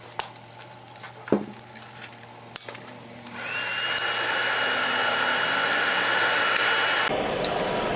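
A coal forge starts with a few knocks and clatters, then its blower kicks in as a steady rushing, whirring roar with a faint high whine, running close by until it cuts off abruptly near the end.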